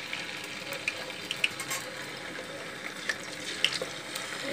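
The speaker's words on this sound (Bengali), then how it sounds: "এটা 1 পাশ আমি 90 সেকেন্ড করে ভেজে নেব" Marinated chicken pieces for a roast fry in a pan, giving a soft, steady sizzle with small scattered pops and crackles. No one speaks over it.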